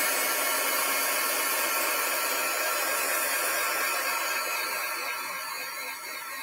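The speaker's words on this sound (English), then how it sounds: "So I'm going to heat set this only because we use distress inks." A heat tool blows steadily and loudly while heat-setting distress inks on a handmade beach card, a continuous broadband whoosh that runs without a break and only eases slightly near the end.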